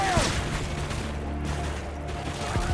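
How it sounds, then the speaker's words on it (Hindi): Gunshots crack in Call of Duty: Modern Warfare 2's No Russian mission over a low droning background, with a scattered burst of fire and a few mechanical clicks and whooshes. "बस गोली चल रही है"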